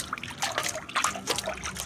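Water trickles and splashes in short uneven bursts as it is poured onto mint plants in a garden, a nearby pouring sound with no voices.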